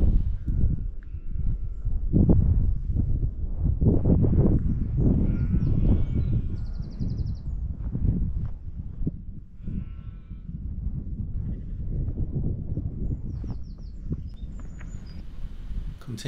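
Sheep bleating on open upland pasture along a walking route near the Ribblehead Viaduct, a few faint, distant calls scattered over steady wind and outdoor rumble, with no talking.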